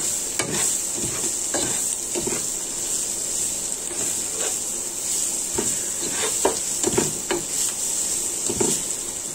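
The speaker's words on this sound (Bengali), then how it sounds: "তেলে শুটকিগুলো ভেজে নিবে একটু।" Dried fish (shutki) frying in hot oil in a pan, a steady loud sizzle with repeated stirring scrapes throughout, no voices.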